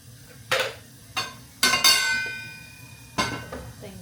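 Oil sizzles in a hot pot while tempering spices for Rajasthani gatte ki sabzi, with several sharp bursts of frying and metal utensil clinks and scrapes between them.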